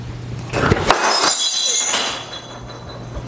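A dropped drinking glass hits the floor nearby and shatters in a loud crash, followed by tinkling shards settling and fading over a couple of seconds.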